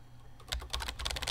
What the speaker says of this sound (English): If you can hear the keys, I'm really sorry, guys.